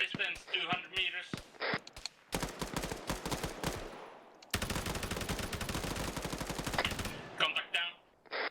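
Sustained bursts of automatic gunfire in the military video game ARMA 3, long rattling volleys with scattered single shots, mixed with radio-style voices talking between and over the firing.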